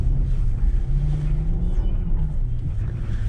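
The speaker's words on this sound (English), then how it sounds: "Some really slow drifting" A V8 Lexus LS430 slides slowly through a winter drift, its engine a steady low drone with wind buffeting the interior, a rising tone swelling briefly near the middle.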